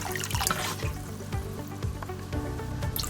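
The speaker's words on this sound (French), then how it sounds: "Maintenant on va couvrir d'eau bien jusque là." Water pours and splashes over glass jars of homemade venison terrine packed in a sterilizer pot, a steady running stream with small bubbling trickles.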